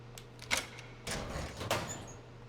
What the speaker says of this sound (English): That key will allow you to open this door.